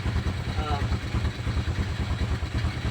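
A motorcycle engine runs at a steady idle, its low, rhythmic putter close and continuous for a few seconds.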